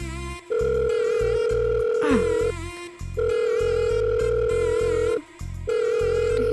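Landline-style phone ringback tone in a stuck lift, repeating in long steady bursts with short gaps, loud and close, going unanswered with no voices.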